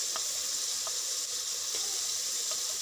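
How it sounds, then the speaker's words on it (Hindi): Masala fries for aloo chicken in a hot pan as a little water goes in, giving a loud, steady hissing sizzle up close with a few faint clicks and stirs. "अब ये इसके अंदर मैं पानी ऐड कर रही हूँ हल्का सा, ताकि मसाले को अच्छे तरीके से भून लिया जाए"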